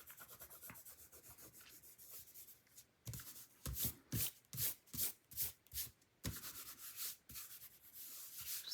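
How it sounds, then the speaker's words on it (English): Excess repositionable adhesive rubbed off paper by hand during scrapbooking, giving close, dry scratchy strokes in a steady rhythm of about eight firm rubs, quieter light rubbing before and after. "I'm going to rub those away."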